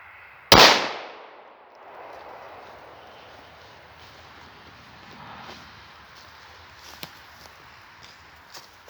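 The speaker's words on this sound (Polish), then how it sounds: "No petardka ma dużą moc" A Match Cracker firecracker goes off in grass with a single sharp, loud bang that fades into a short rushing tail. Quiet outdoor ambience and a few faint knocks follow.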